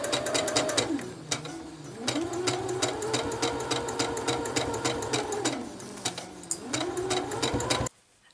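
Sewing machine stitching the final seam of a quilt, a steady close rapid mechanical whir with regular needle clicks, slowing and speeding in a few bursts before stopping abruptly.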